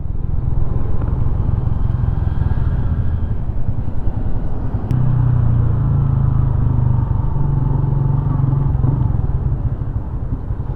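A motorcycle rides along a road with a steady, loud close engine rumble and drone that holds for the whole stretch, shifting slightly in pitch midway, with no talking.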